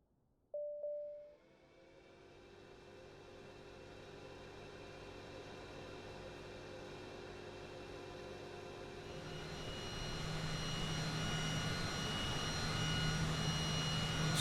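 Aircraft engines start up in Microsoft Flight Simulator 2020: a click and brief tone, then a turbine whine that slowly builds and spools up, with a second engine joining partway through as the roar grows louder and fuller, with no talking.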